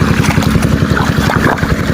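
A water pump engine irrigating an onion field chugs in a fast, even rhythm, loud and close and running alone without talk.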